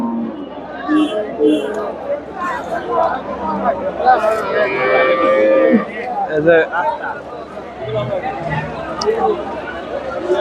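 Cows moo now and then amid a busy crowd at the Dhaper Hat cattle market in Bogura, with people talking and chattering close by throughout.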